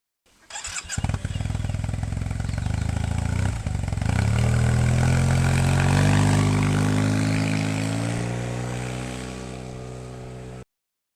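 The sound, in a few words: Yamaha TMax Iron Max scooter accelerating on the road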